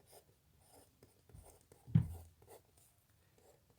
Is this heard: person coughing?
no